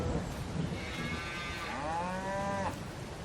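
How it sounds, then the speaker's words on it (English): Cows on Calmsden Farm in Farming Simulator 22 let out a couple of long, drawn-out moos, with a steady farmyard ambience continuing beneath them. "all the cows seem quite happy."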